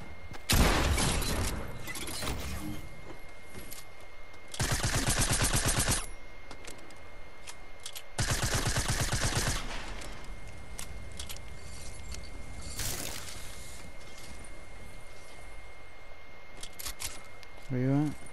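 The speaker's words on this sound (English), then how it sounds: "someone else is shooting at me." Video-game gunfire comes in two long, loud automatic bursts of a second or more each, with scattered single shots between them and quieter game noise in the gaps.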